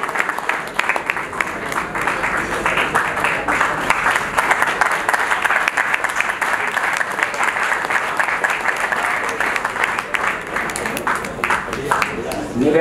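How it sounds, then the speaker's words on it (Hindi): Audience at a poets' award ceremony, the Kavi Premier League Samman Samaroh, claps steadily and loudly, a dense, unbroken wash of applause lasting the whole stretch. "एक बार तालियां कम बजा रहे हैं आप"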